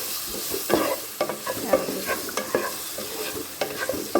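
Par-boiled, drained tapioca is stirred in a hot pan for Thrissur-style kappa, with repeated scraping strokes of the spoon over a soft, steady sizzle, close and alone without voices.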